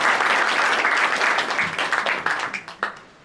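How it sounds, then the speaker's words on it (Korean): Warm applause from an audience at the launch ceremony of a library data research center, a full burst of clapping that thins out into scattered claps and fades over a few seconds. "큰 박수 부탁드립니다."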